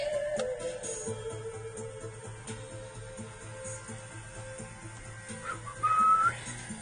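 A person whistles a short tune over quiet background music from a livestream, the clear whistled notes most prominent near the end.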